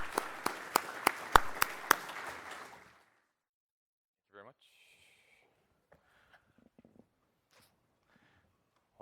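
Audience applause welcoming a speaker to the stage at a NASA leadership talk, a brief burst of sharp claps for about three seconds that cuts off into near silence with faint shuffles.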